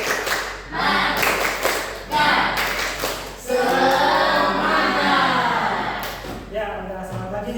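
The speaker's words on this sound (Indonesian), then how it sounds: "Coba kita tepuk semangat dulu ya, biar semakin semangat." A school class does a rhythmic spirit clap, sharp clustered claps in short bursts, then voices chanting loudly together with more clapping in between.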